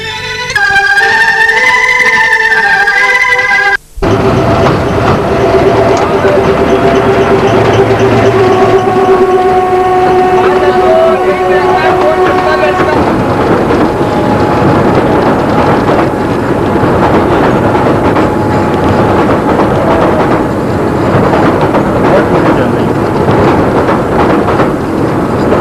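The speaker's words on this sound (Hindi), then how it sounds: "कोई ट्रेन आ रही है।" A train draws near and rolls past, its horn sounding over rising rumble and rail clatter before a long steady roar of passing cars; music plays at the start before cutting out.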